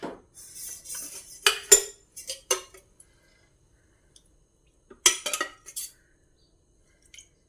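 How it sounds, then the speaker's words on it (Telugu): Metal pot set down on a lit stove while cooking tomato rasam, a few close clanks and scrapes of cookware in short bursts separated by near-silent pauses. "ఇప్పుడు స్టవ్ వెలిగించి ఒక గిన్నె పెట్టుకొని"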